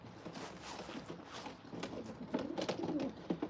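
A red racing pigeon coos softly nearby in low, rolling calls, with light rustling and faint background noise.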